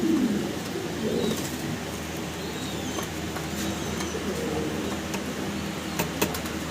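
Fancy pigeons, a breeding pair, coo softly in their loft, with low repeated coos early on and a steady background hum.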